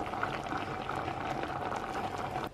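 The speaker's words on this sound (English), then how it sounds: "And then pour water over to cover, make sure all of that meat is submerged under the liquid." Water poured into a pot of simmering beef stew, a steady, continuous rushing pour that holds at an even level for the whole stretch with no talk over it, cutting off sharply at the end.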